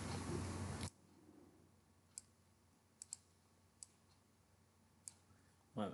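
A computer mouse clicks several times, sharp isolated taps spaced across a quiet room, close and faint, with louder sound at the start and end.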